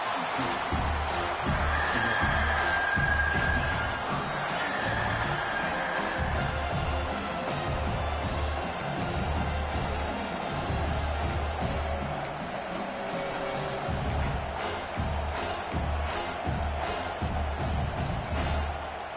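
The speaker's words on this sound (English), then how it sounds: "here comes the noise. This crowd is trying to inspire this defense to make a big red zone stop" Football stadium crowd roaring loudly and steadily as the home defense faces a goal-line play from the 2-yard line, a dense, continuous wash of noise that swells and holds throughout.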